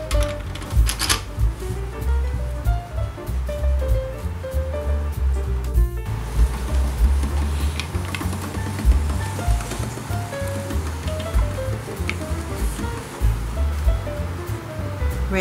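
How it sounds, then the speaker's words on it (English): A hand-cranked Marcato Atlas 150 pasta machine feeds a dough sheet through its tagliolini cutting roller, giving a steady close rattling whir with rhythmic mechanical clicks and a brief pause partway through. "We will insert the pasta sheet into this tagliolini roller."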